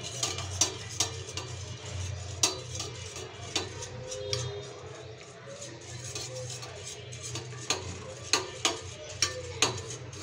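A spoon clicks and taps against a bowl while two eggs are stirred, with quick, irregular ticks over a soft background hum, close and fairly quiet.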